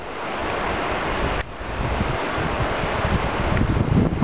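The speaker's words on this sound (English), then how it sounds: "it's about time I got a decent splash" River rapids on the Verde River in Arizona crash over a packraft in a continuous loud roaring wash, broadband and close, with a brief dip before the splashing surges again, mixed with wind buffeting the microphone and no voices.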